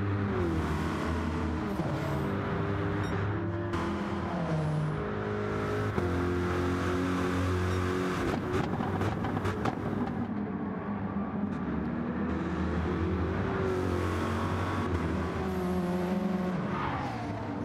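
Race car engine in a racing game on the final lap at Interlagos, Brazil, revving and shifting steadily through gears with occasional tyre squeal, continuous and fairly close, without speech.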